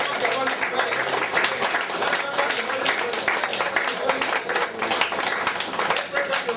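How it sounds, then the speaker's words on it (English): A congregation claps hands together at a church service in Singapore, a steady dense patter of many hands filling the room throughout, mixed with voices and a spoken exhortation over the top. "Begin to clap your hands for the Holy Spirit."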